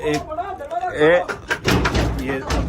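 Someone trying to force a door open at a house, with heavy thuds and rattling knocks coming in bursts, loud and close, while people talk over the noise.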